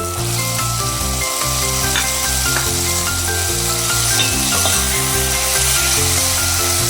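Shrimp sizzling steadily as they are sautéed in a pan with sautéed aromatics for ginisang ampalaya, a loud continuous frying hiss with stirring clatter and a low background hum.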